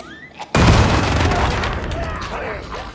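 A stun grenade detonating in Darktide, a sudden loud close blast after a quiet moment, followed by a dense roaring wash that slowly fades over a few seconds.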